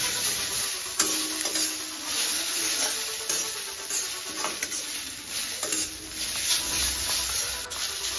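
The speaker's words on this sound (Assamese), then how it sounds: "এনেদৰে আমি সুন্দৰকৈ মেগীখিনি মিক্স কৰি ল'ম" Maggi noodles stirred in a hot frying pan, a steady sizzling hiss broken by scraping clicks of the utensil against the pan throughout.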